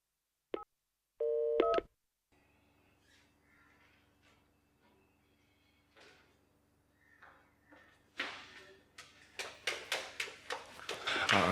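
A telephone number is dialed in short tonal beeps, two quick keypresses standing out loud at the start, followed by quieter handling clatter and a string of sharper clicks and knocks building toward the end.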